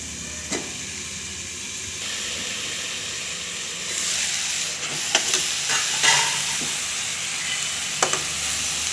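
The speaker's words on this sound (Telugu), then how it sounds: "మధ్య మధ్యలో గరిటతో అలా తిప్పుతూ ఉండండి" A pan sizzles and hisses steadily at close range, with a few scraping clinks as a ladle stirs the simmering food.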